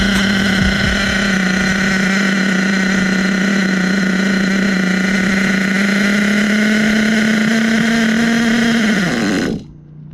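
An HPI Savage XL nitro RC truck engine idles loud and steady close by with its fuel line pinched. The buzzing drone holds for about nine seconds, its pitch dips slightly, and then it sputters out and stops abruptly.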